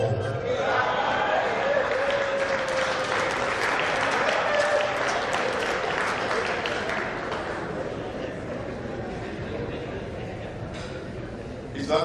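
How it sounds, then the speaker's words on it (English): Steady, dense applause fills a hall at an alumni association gala, loud and continuous before gradually thinning out toward the end, with some voices mixed in. "That applause wasn't good enough."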